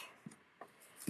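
Scissors snipping off a piece of bow material for a birthday craft, three quiet, separate cuts spread over about a second, close by with no talking.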